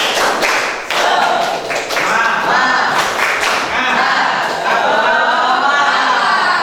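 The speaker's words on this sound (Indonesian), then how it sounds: "Coba tepuk semangat, bisa tepuk semangat?" Rhythmic group clapping of a tepuk semangat cheer, a dense burst of crisp claps and taps from many hands, with voices chanting along underneath.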